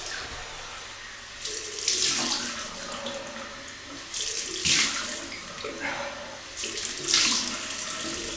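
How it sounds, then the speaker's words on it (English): A tap runs while a shaving brush is rinsed under it, giving close, splashy water that swells in three bursts as the brush is worked through the stream, with no voices. "so we'll rinse that off again"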